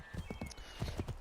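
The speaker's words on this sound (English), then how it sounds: "that's the one bloody thing I hate about the horses in this game" Horse hooves clip-clop in a video game, a quick uneven run of soft, muffled thuds at a moderate distance, with no voices over them.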